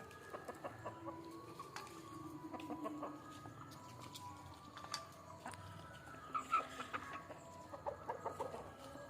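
Native country chickens cluck softly at a distance in a quiet outdoor setting, with scattered short calls and faint background noise.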